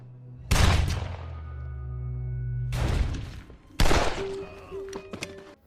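Gunfire rings out in a film shootout: a sharp loud blast followed by a long ringing decay, then two more heavy bursts with crackling tails and scattered smaller impacts near the end.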